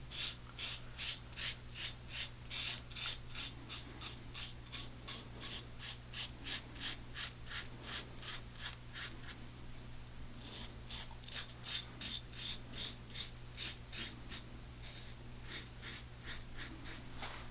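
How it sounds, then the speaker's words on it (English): Steady rhythmic razor strokes rasp across facial hair, close and fairly quiet, about two scraping passes per second, with a brief pause midway before the strokes resume. "Let's see if we can rip through the shave."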